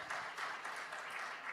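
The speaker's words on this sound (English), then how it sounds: "Let's give a bigger round of applause to our moderator and to all the panelists." An audience at a program launch panel event claps for the moderator and panelists, a short, fairly faint burst of dense applause.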